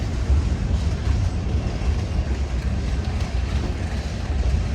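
An Amtrak San Joaquin passenger train slows at Martinez station, a loud, steady low rumble of wheels and engine heard close up, with wind buffeting the microphone.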